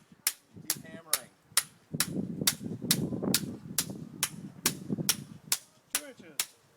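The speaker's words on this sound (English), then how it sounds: "Keep hammering" Driveway arch uprights are driven into the ground with a hammer, about a dozen sharp metallic strikes in a steady rhythm. A voice murmurs under the middle stretch.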